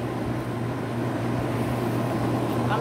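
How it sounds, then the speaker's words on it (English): A steady mechanical hum of an air conditioner drones on without a break, a constant low whir filling the room. "I'm sorry about the noise in the background. That's the air conditioner."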